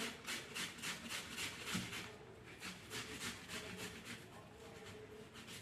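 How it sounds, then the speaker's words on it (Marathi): Boiled potatoes are grated into a plate on a hand grater for spicy potato sev, making repeated rhythmic rasping strokes, close and fairly soft, with no talking. "एका ताटामध्ये बटाटे किसून घेते मी"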